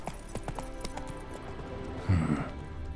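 Hooves of the horse Roach clip-clopping in The Witcher 3: Wild Hunt, a steady rhythmic gait with a brief louder snort or whinny near the end, close and clear, with light speech in the background.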